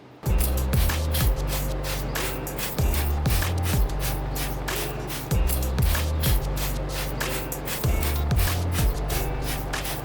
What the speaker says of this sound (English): We're going to go ahead and hit the areas with some spray.